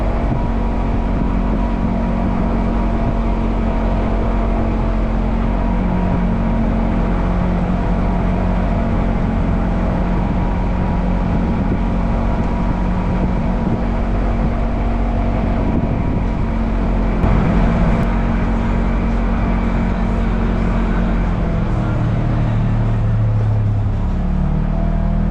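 Steady, loud engine drone and tyre rumble fill the cabin as a vehicle climbs the Yankee Hill Road trail near Central City, Colorado, continuous throughout with a slight shift in engine pitch near the end.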